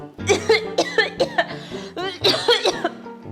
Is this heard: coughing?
yes